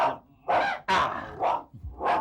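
A stray street dog barks and growls in a neighbourhood lane, giving four loud, close, rough barks in an uneven rhythm, with a low rumble between them and no talking.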